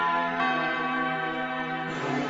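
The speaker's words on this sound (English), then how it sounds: "I heard all the city bells begin to ring" City bells ring out together in a loud, resonant peal, their overlapping tones sustained and shimmering for a couple of seconds with no voices.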